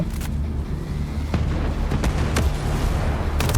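Dense rumbling blasts from Tom Clancy's Ghost Recon Breakpoint with sharp bursts and booms recurring throughout, loud and close, a continuous battlefield din.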